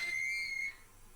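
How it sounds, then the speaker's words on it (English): In the video game Disco Elysium, a Kvalson crane at the harbor gives a thin, high metallic whistle that holds for under a second before fading into quiet ambience. "That's the sound of a Kvalson crane."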